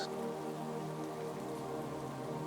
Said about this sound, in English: soft rain falls all around us